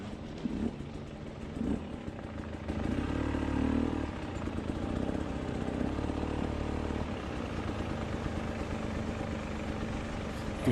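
A dirt bike rides along a dirt road through wild country near waterfalls, its engine a faint, steady, distant drone with rattling clatter, heard thinly as if through speakers.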